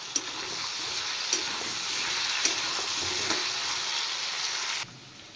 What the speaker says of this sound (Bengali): এবার পেঁয়াজটা দিয়ে ফ্রাই করে নেব।